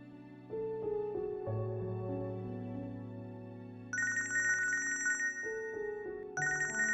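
A phone ringtone sounds for an incoming call, a melodic electronic tune with repeating tonal phrases and bright chime-like notes, close and clear with no talking.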